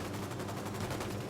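Rapid automatic gunfire in the video game Ghost Recon Wildlands, a short, fast string of evenly spaced shots at moderate distance, fairly faint.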